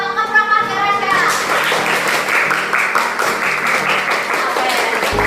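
A school class claps together in a classroom, a dense burst of many small hands that starts after a moment of talk and carries on steadily, fairly close.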